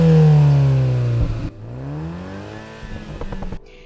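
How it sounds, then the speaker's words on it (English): BMW Z4 sDrive30i's 2-liter TwinPower turbocharged inline-4 revs hard, pitch climbing then dropping, with a second shorter rev after it, loud and close. "The sDrive30i that we have here has a 2-liter TwinPower turbocharged inline-4"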